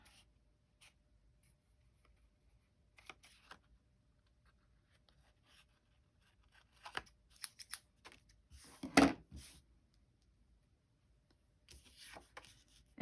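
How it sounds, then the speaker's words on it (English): Quiet room with a few short snipping and crinkling bursts, then a sharper cluster of cuts near the middle, like scissors working through paper. "find my scissors in my huge pile over here"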